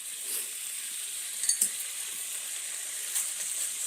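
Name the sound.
bacon sizzling as it cooks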